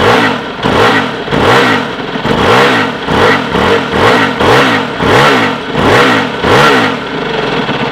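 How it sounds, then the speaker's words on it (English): An Aprilia RXV V-twin dirt bike engine revs loudly and repeatedly up close, in a steady series of rising and falling blips with no talking. "It does have quite a unique sound, as dirt bikes go, owing to the V-twin."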